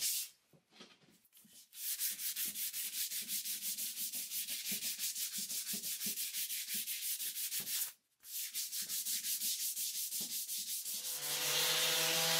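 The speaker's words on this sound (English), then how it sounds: "you'll know you did a really good job of scuff sanding when you see some of the dust start coming off" Sandpaper scuff sanding a table by hand, loud rhythmic back-and-forth rasping strokes in a quick steady series, pausing briefly partway through and again near the end.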